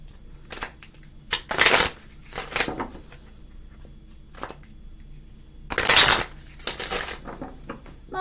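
A deck of Animal Spirit Oracle cards is shuffled close by in bursts of crisp riffling and flapping, with a few quiet taps and pauses between the shuffles and no talking.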